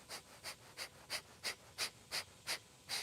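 Bhastrika breathing during a yoga practice: about nine forceful, evenly spaced breaths pumped in a steady rhythm, each a sharp airy rush close to the microphone, fairly quiet overall, with no talking.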